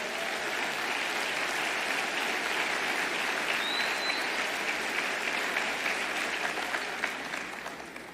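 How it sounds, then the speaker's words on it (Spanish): A congregation applauds Jesus at a church conference, with dense, sustained clapping that carries on for several seconds before starting to fade. "Dele fuerte ese aplauso a Jesús."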